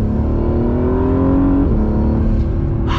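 An Acura NSX supercar engine revs up close on a canyon drive, pitch climbing smoothly to a peak and dropping back into a throaty rumble as the car keeps moving.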